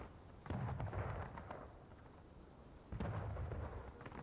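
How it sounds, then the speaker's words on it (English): Cannon fire in the War of Rights Civil War game, two deep booming blasts a couple of seconds apart, each with a rumbling tail, moderately distant. "Cannon."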